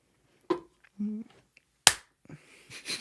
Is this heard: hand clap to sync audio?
yes